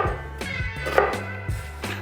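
Knife chopping onions on a cutting board beside a Blackstone griddle, several distinct chops at an uneven pace with short pauses between them, close and moderately loud, no talking.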